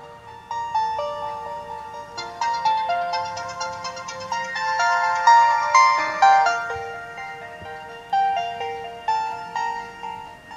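A Sony Ericsson Z310i mobile phone plays a polyphonic ringtone, a bright, looping electronic melody, loud and close, with no talking.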